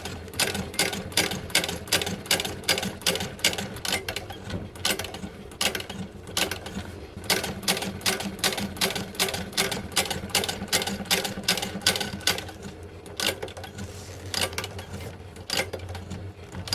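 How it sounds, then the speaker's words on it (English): A sewing machine stitches a leather holster in fast rhythmic bursts of clattering needle strokes, with short pauses between runs, close and clear. "I have a machine. I'm going to use the machine."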